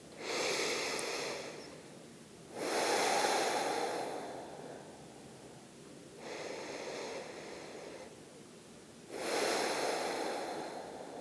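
Slow, relaxed breathing during a yoga flow, four long airy breaths alternating inhale and exhale with short pauses between, close and soft, with no talking.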